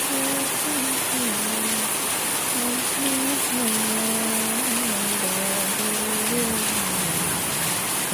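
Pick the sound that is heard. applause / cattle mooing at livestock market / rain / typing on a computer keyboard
rain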